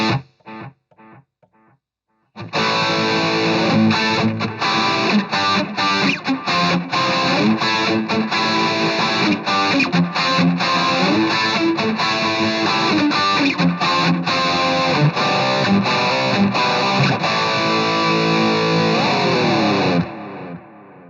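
A MOOER SD30 modelling guitar combo playing distorted electric guitar through an analog tape echo setting, a continuous loud riff with repeating echoed notes after a few brief plucked notes at the start.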